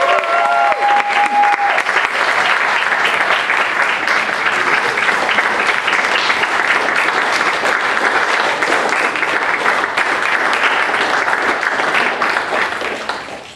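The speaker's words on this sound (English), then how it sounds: "please let's give them a round of applause" Loud, sustained applause and cheering from a crowd at a charity run and bike finish line ceremony greet a team crossing the finish line, steady throughout before tapering at the end.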